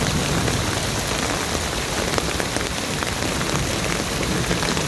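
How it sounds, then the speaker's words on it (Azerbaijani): Heavy rain pours steadily onto ground during a storm with hail, a dense unbroken hiss of drops hitting the surface close by, constant and loud from start to finish with no voices. "Yağış kəssin."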